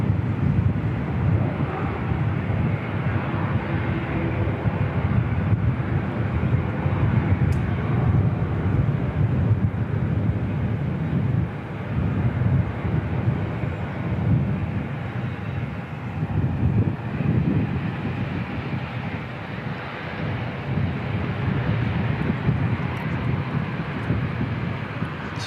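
Continuous loud roar of a C-17A military transport aircraft on the runway at Christchurch Airport, a broad steady engine rumble with faint wind noise and no talking.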